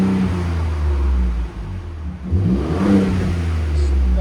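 Ford Raptor 3.5L twin-turbo V6 with a Borla ProXS exhaust revving hard toward the rev limiter, a loud, close, sustained engine roar that dips briefly mid-clip before climbing again.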